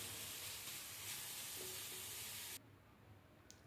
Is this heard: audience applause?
no